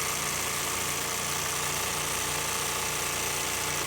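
A Bernina Industrial 950 sewing machine roll-hems chiffon, running at high speed with a constant dense mechanical whir and rapid needle chatter, steady and close without pause.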